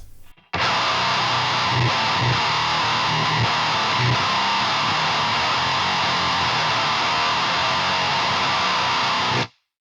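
Boss HM-2 chainsaw distortion pedal into a driven JCM 800-style amp, a dense, saturated wall of buzzing guitar that holds loud for about nine seconds, then cuts off abruptly.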